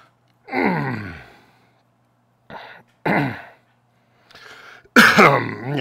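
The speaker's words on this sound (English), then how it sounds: "Yeah, cough, cough, cough, cough." Several harsh, close coughs and throat clearings come in separate bursts with short silent gaps between them, the last one the loudest.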